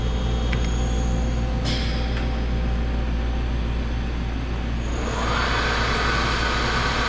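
A Fadal 6030 CNC machine's spindle running in high gear at speed 3000, a steady, smooth mechanical hum with a constant low drone and a slight rise in higher whine toward the end, close and alone.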